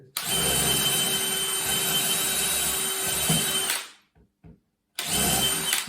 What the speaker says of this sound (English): So I'm going to drill 2 5mm holes through there.